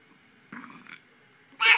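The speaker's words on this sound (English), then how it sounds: "she burped" A baby lets out a short, soft burp, and a second, louder burst of sound follows after a brief pause in an otherwise quiet room.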